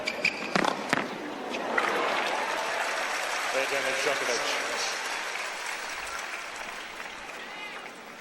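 Tennis crowd at a Djokovic versus Federer match reacting with scattered applause and murmuring after a ball kid struggles with a loose ball, sustained crowd noise throughout with a few sharper claps early on.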